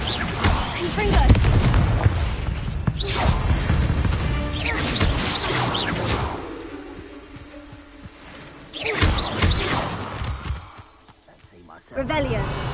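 Fiery blasts from the Confringo spell in Hogwarts Legacy boom in several loud bursts with rumbling decays between them, while a voice speaks over the action.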